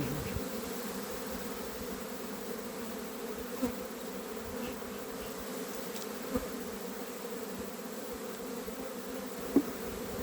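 A continuous, even hum of honey bees swarming around a small nuc hive box in spring, close and unbroken, with a few faint knocks and no talking.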